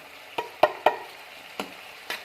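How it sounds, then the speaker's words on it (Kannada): Turmeric, coriander, chilli and masala powders hit hot oil with a soft sizzle, broken by five sharp spoon-against-pan scrapes as the spices are stirred; no one speaks. "ಹಾಕ್ಕೊಂಡು ಚೆನ್ನಾಗಿ ಎಣ್ಣೆಯಲ್ಲಿ ಫ್ರೈ ಮಾಡ್ಕೋಬೇಕು."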